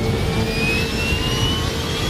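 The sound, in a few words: jet airliner accelerating down runway for takeoff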